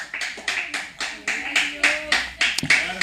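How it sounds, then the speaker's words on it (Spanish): A church congregation claps in a steady, rhythmic beat, each clap sharp and evenly spaced, with voices sounding underneath. "Dale palmas aquí"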